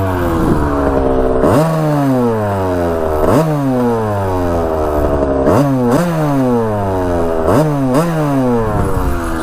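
A 125cc dirt bike engine revs repeatedly, each sharp rise in pitch falling back to a steady idle, loud and close with no voices.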